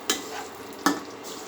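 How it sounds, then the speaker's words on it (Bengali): Chicken being sautéed with spices in a pan for a Bengali curry, a constant sizzle broken by two sharp stirring scrapes of a spoon against the pan, close and fairly loud, with no talking. "এটা ভালো করে কষায় নিতেছি"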